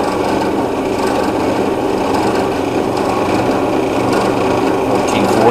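A drill runs at about 1500 RPM through a steel 98-tooth sprocket, producing a loud, steady grinding whine with a rasping texture that stays constant throughout, with no voices.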